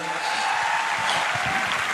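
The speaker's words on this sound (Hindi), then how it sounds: "अरे भाई साहब ताली तो बजा दो यार, इतना बड़ा रिजल्ट है।" Audience applause at a crowded hall event in Patna, a short burst of dense clapping from many hands, fairly loud and close, lasting about two seconds.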